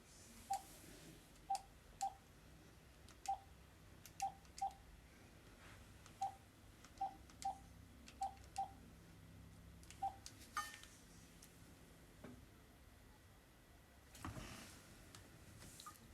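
Touch-tone telephone dialing beeps, about a dozen short regularly spaced tones tapped out one after another, fairly faint over a quiet room background with no talk.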